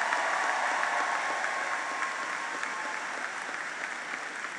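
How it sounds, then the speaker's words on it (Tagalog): A large crowd applauds and cheers for the President at a provincial gathering in Capiz, a continuous dense roar of clapping and voices that holds steady and eases slightly toward the end. "hindi lang po yun palakpak, may dalang sigaw pa po yun"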